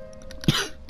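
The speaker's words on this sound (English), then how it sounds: "Ow, that cough hurt." A single short, harsh cough close to the microphone, one sharp burst with a rough throat-clearing tail, alone in a quiet room.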